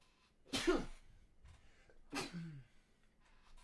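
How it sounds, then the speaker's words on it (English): A single sharp sneeze bursts out close to the mic in a quiet room, followed after a pause by a second, softer sneeze-like exhale trailing into a breathy sound. "I'm going to sneeze."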